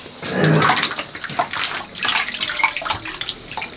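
Water pours and splashes steadily into a pot, with a bright rushing stream and small surges, close and fairly loud.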